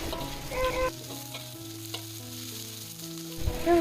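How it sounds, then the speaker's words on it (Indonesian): Red and green chili peppers with spices are stir-fried in a pan, a continuous close sizzle with scraping stirs and utensil clinks, steady and moderately loud with no talking. "Masukkan semuanya, kita tumis-tumis kembali hingga bumbu tercium harumnya."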